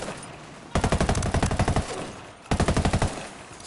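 Video game gunfire as enemies open fire: two loud, rapid automatic bursts of machine-gun shots, the first about a second long and the second shorter, with no voices.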